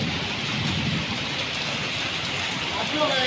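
Heavy rain pours down steadily outside a house yard in Konkan, a dense continuous hiss that fills the clip with a faint voice under it.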